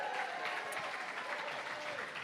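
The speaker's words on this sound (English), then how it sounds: "Give him a round of applause." Faint, brief applause from diners at a gala dinner, a soft, distant patter of clapping with no voices over it.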